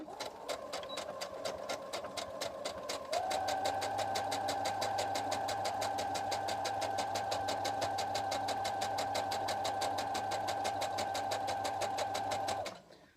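Domestic sewing machine stitching a pointed fabric piece, with backstitches at each corner: a steady, close, fast mechanical whirring hum running continuously for about ten seconds, then stopping abruptly.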